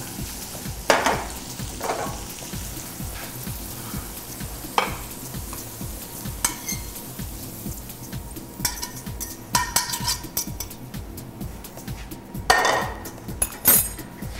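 Peas sizzle and fry in a pan, tossed repeatedly with sharp metallic clinks and scrapes of utensils over a steady crackling hiss, close and fairly loud.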